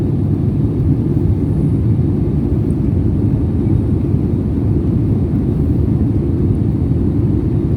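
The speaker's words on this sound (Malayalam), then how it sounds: "ഫ്ലൈറ്റ് ഏകദേശം നെടുമ്പാശ്ശേരിയോട് അടുത്തിട്ടുണ്ട്" A SriLankan Airlines airplane flying from Colombo toward Cochin's Nedumbassery airport, heard from inside the cabin as a loud, constant low engine drone that never changes.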